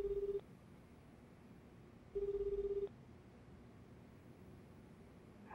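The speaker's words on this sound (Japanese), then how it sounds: "電話しています。" Ringback tone of a phone call in the video game Lost Judgment, two steady electronic burr bursts about two seconds apart over a low background hum, with no talking.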